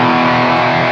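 An electric guitar played through a Boss OD-200 overdrive pedal with its boost engaged gives a brief, dense, buzzing tone that holds loud and steady for about a second.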